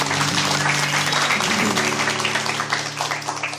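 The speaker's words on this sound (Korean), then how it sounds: "박수 한번 주시죠." A crowd bursts into steady applause that carries on for several seconds before tapering off slightly.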